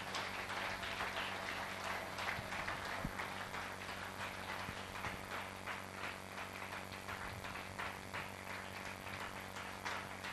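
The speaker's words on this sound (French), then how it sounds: "Je ne sais pas si tu applaudis pour moi ou tu applaudis pour le Seigneur." Church congregation applauding continuously and steadily at a worship service, a dense crowd of clapping that fills the room without pause, with a low hum underneath.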